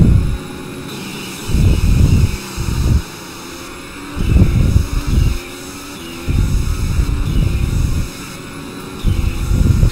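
A 2017 Toro Rosso Formula 1 car racing at Spielberg in the Automobilista sim: loud, close engine roar surging in about five on-off bursts as the throttle opens and lifts, with a steady hum between, and no voices.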